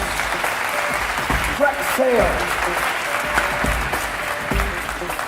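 Conference audience at a customer-experience summit applauding to welcome a company CEO to the stage, steady dense clapping throughout with a voice speaking over it.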